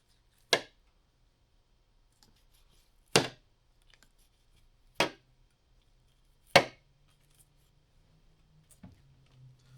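A knife chops down through turkey back rib bones while butchering along the spine: four sharp, isolated cracks spaced a couple of seconds apart, close and crisp against near silence, with faint handling sounds afterward.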